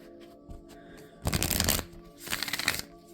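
A Gentle Reminders tarot deck is shuffled close by in two quick bursts of riffling card noise separated by a short pause, against a quiet room background.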